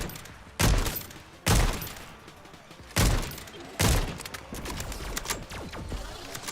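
Video game gunfire booms in four heavy blasts spaced about a second apart, each with a deep thump and long crackling decay, followed by dense continuous rattling and clatter.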